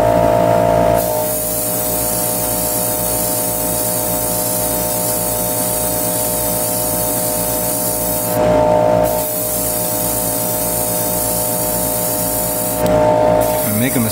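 Black paint being sprayed from an airbrush or can onto a part of a 1/100 Master Grade Sinanju Stein Gundam model, a steady close hiss with two short pauses between bursts.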